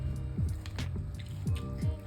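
Juice is squeezed by hand from a grated orange, giving soft, wet squishing and dripping sounds in a few repeated pulses, close and fairly quiet.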